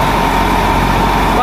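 A tractor engine drives a thresher processing millet, giving a loud, steady mechanical drone with voices talking over it.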